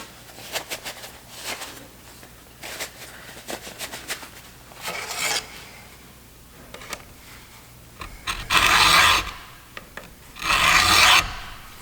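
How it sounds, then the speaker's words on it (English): Hand file rasping across chainsaw chain cutters during sharpening, in several bursts of even strokes that grow louder and longer toward the end, with no talking. "You're not a grinder, you're just filing this."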